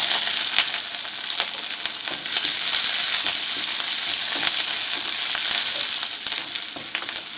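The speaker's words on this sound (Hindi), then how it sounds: "एठी रसुण चुन चुन कर नहीं गोटे कंचा लंका 4-5टा नहीं अदा चुन चुन कर नहीं तेल गरम है" Garlic, green chillies and ginger fry in hot oil, giving a steady, close, loud sizzle with a bright hiss and occasional crackles and stirring scrapes throughout.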